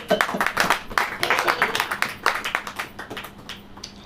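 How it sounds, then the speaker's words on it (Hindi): During a church sermon, the congregation claps in a burst of fairly close, rhythmic hand claps. The clapping is loud at first and then thins and fades toward the end. "आगे कहो, ताली हो जाइए कस के"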